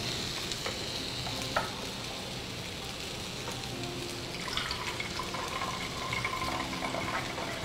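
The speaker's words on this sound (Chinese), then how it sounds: "专心煎一下煎饺，它其实没什么油烟，用烧烤盘不会什么油烟" Gyoza dumplings pan-fry on a grill pan with a faint, steady sizzle and crackle, light clinks and scrapes of cooking over the frying hiss, no voices.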